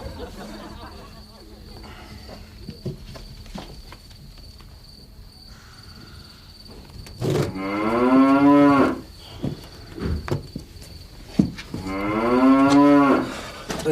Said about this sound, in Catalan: Vosaltres havíeu vist mai una vaca tan propera?